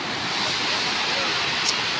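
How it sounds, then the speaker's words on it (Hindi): A waterfall pours from high up at a tourist spot near Rajkot, giving a constant, fairly loud rushing hiss that stays even throughout, with no one talking. "ये कितना आवाज़ मस्त का आ रहा है झरना का"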